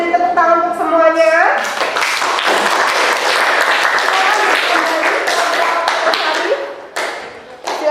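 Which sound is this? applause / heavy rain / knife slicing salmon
applause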